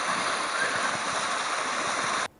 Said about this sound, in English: you can see the water just washing through the grass